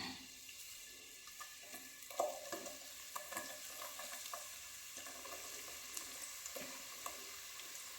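Onions frying in a pan give a quiet, steady sizzle with scattered small pops and stirring scrapes, close by and with no talking.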